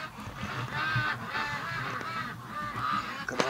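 Ducks quack and honk in a noisy flock, nasal calls overlapping continuously at moderate distance in an outdoor winter setting.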